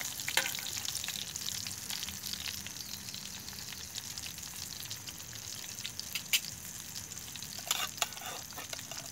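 A fillet sizzles and crackles steadily in a pan over a bushcraft campfire, with scattered pops and a stir or flip midway, close and fairly quiet.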